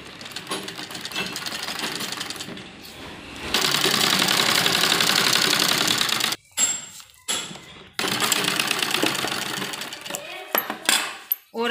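Sewing machine stitching a hem along the edge of a net blouse, running in sustained bursts with short stops, steady mechanical whirring broken by brief pauses and clicks near the end.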